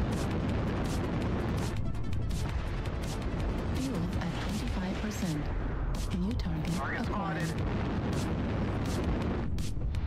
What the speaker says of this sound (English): And an artillery strike, of course, on me